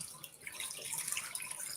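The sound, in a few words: pouring liquid marinade onto chicken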